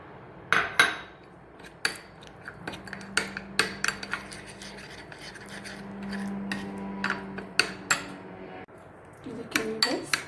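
A spoon clinks and scrapes against a bowl as a skin polish paste is mixed with water, with irregular sharp taps and rubbing strokes and a faint low hum beneath.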